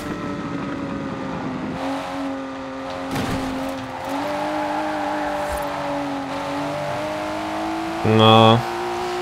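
The Lykan Hypersport's engine in Forza Horizon 4 holds a steady, droning note that rises and dips slightly, with a brief harsher burst near the end, while someone talks over it throughout.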